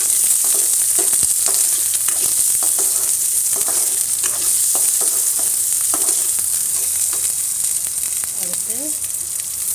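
Mustard seeds and small shallots sizzle in hot oil for a tamarind curry, a loud continuous crackle with scattered pops and stirring clatter. The sizzle stays close and runs the whole time.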